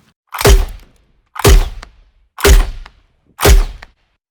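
Grenade launcher effect layer for a silenced shotgun shot sound design: four identical deep, punchy thumps, loud and close, evenly spaced about a second apart, each with a short low tail and silence between.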